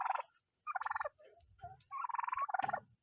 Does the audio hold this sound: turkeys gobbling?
yes